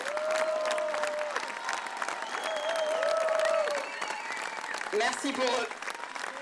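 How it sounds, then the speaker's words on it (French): Outdoor crowd applauding performers at a summer gathering of French Saint-Laurent towns in Saint-Laurent-de-Gosse, a steady wash of clapping with some cheering, while voices talk over it. "ben vous les applaudissez."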